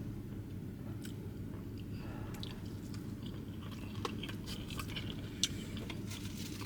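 A person chews a bite of IHOP poached eggs benedict close to the microphone, with soft, wet, steady chewing and a few crisp crunches over a low background hum.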